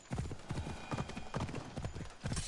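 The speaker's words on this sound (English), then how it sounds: "Jump, horse, jump." Rhythmic hoofbeats of a horse galloping in a PS4 video game, with steady clip-clop thuds repeating in quick bursts and a faint whinny, up close over game ambience.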